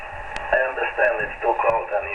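Shortwave broadcast received through an outdoor antenna, a talking voice coming through the radio over a steady static hiss, with a few sharp clicks scattered throughout.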